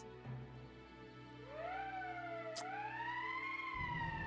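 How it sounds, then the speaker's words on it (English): An emergency siren wails in the video game Valkyria Chronicles, rising and falling in slow sweeps over a low steady hum, loud and alone with no voices. "That's the emergency siren."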